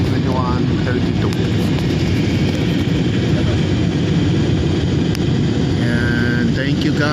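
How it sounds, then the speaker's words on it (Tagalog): Cabin noise inside a descending Philippine Airlines airliner, a steady loud engine roar and rumble throughout, with people talking faintly underneath. "Bababa na itong aeroplano na yan."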